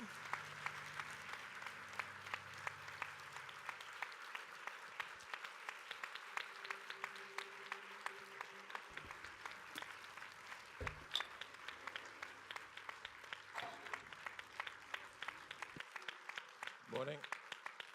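Audience applause welcoming Ridley Scott and the Prometheus cast at a Paris event, sustained clapping throughout, rather faint, with a few voices talking over it at times.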